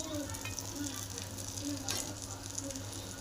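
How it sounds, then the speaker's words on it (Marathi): Green chillies frying in hot oil give a soft, continuous crackling sizzle, low in level and steady throughout, with no speech. "इकडं 10 मिनटं तळून घेऊ."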